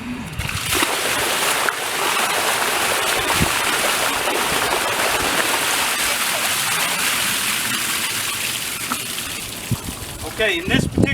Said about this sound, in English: You just keep flushing it until the water's clean.